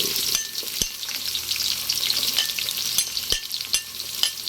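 Chopped onions for dinuguan sizzle and fry steadily in a hot pan, a dense continuous crackle with occasional sharp pops and clinks of a utensil stirring, close and fairly loud.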